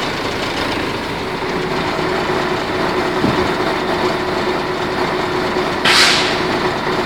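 Mercedes-Benz 1519 truck idling with power take-off engaged to raise a tipping trailer, a loud steady diesel rumble with a constant whine, plus a brief hissing burst near the end.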